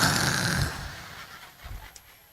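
A man imitates someone snoring during a comedic sermon at a Maulid Nabi celebration, giving a loud rasping snore that fades, followed by a few fainter snorts.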